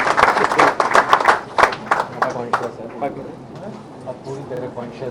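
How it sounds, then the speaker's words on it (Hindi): An audience applauding a child's birthday at a crowded gathering, a burst of dense clapping that thins into a few scattered claps, with voices talking throughout. "कृपया तालियों से उसे बहुत बहुत बधाई"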